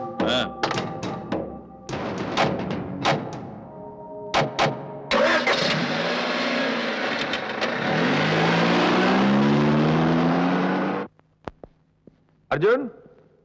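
A car engine starts and revs for reversing, with a rising, droning roar that holds for several seconds before cutting off, preceded by door thunks and clatter, with speech over parts of it.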